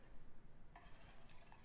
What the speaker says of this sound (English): you should start stirring it first and then slowly adding it a little bit at a time